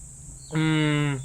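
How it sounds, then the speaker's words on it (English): A cicada in a rural cornfield gives a loud, close buzzing drone that starts abruptly and holds steady for under a second before fading, over a low background hum. "Love the sound of cicadas."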